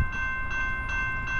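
A CSX freight train passes on the Fourth of July, a steady, loud rumble of rolling cars with a sustained tonal ring above it, continuous and close throughout with no pauses.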